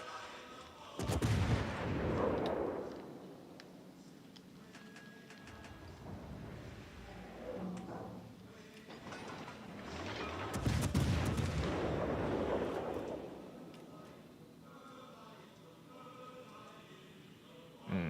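Naval artillery fire in the warship battle game World of Warships: Legends, with deep booming salvos rolling out in two main bursts and fainter rumbling between them, moderately loud.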